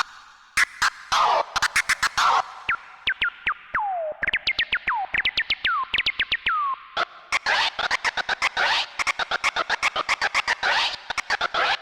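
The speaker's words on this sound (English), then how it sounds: "I had reverb on my scratching." Rapid DJ scratches zip and chirp in quick bursts, each stroke trailing a short echoing tail, growing denser toward the end.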